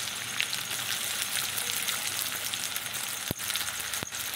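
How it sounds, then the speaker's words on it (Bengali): Chopped onions sizzle and fry in hot mustard oil, a steady close crackling hiss with a couple of sharp clicks near the end. "এখন সর্ষের তেল দিয়ে দিয়েছি। তারপরে পেঁয়াজগুলো তেলের ওপরে দিয়ে দিলাম।"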